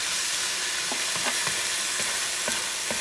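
Smoked paprika and turmeric are stirred into tomato sauce in a hot pan for Puerto Rican beef stew, a steady loud sizzle with soft scraping strokes of the spoon at irregular intervals.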